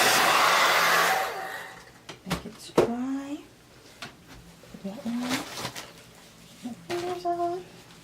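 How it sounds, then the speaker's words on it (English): Hair dryer on a low, cool setting blowing over chalk paste on a wreath transfer, a steady airy whoosh for about a second before cutting off, followed by a person talking. "I'm going to get a hair dryer. I'm going to put it on cool setting on low."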